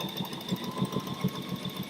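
A sewing machine stitching fabric nearby, a steady mechanical whir with rhythmic thumping pulses from the needle running continuously.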